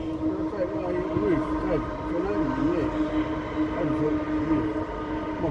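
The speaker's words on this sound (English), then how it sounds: "I've got a train going past." A train passes on the Zig Zag Railway by a mountainside, a steady rumble with a rising and falling horn or whistle tone running through it, while people talk nearby.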